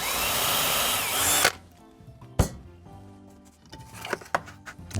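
Power drill boring holes about half an inch deep into wood: a loud steady whine that cuts off, then a few short bursts and bumps of handling, all close and without talk.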